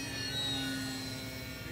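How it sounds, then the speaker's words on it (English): A small RC model airplane with a 3D-printed PLA wing flies overhead, its electric motor giving a steady, faint whine with thin high tones that hold evenly throughout. "I just committed to take off and now we're flying."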